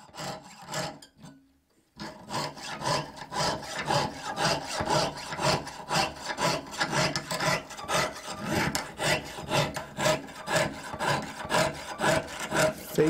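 A jeweler's piercing saw blade, lubricated with wax, cuts through sheet metal at a bench in a steady series of even back-and-forth strokes. The rasping is close and continues after a brief pause near the start.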